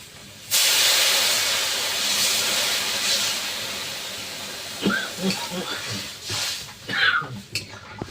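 Fish curry with added water coming to a boil under a lid, a strong steady steamy hiss that starts suddenly and fades a little, followed by clattering pots and a voice talking.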